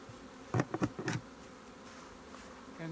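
Honey bees buzz in a short cluster of close, wavering hums while a nuc hive is transferred into a standard hive body, then fade to a faint steady background drone.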